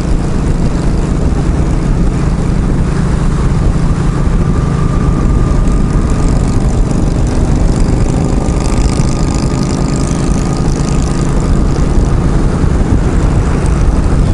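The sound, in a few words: motorcycle engine while riding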